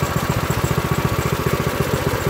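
An Earthquake Victory rear tine tiller's small engine idles at close range with a steady, rapid chugging pulse and mechanical clatter, loud and unbroken, with no talking.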